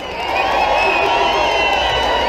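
A live concert audience at Darwen Music Live 2016 cheers and shouts during a soul band's set, a dense, steady wall of crowd noise that swells in and holds loudly throughout.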